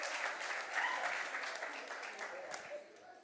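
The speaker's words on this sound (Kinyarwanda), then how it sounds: "Amashyi menshi rero." Applause from a wedding crowd, moderately loud clapping that rises and then slowly thins out, with voices talking underneath.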